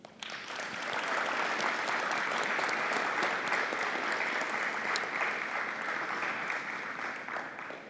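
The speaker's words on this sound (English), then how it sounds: "can we give our Youth of the Year finalists one more round of applause" An audience at a Youth of the Year celebration gives the finalists a sustained round of applause, swelling quickly from a few early claps into a full, even roar of hands that holds steady and tapers slightly near the end.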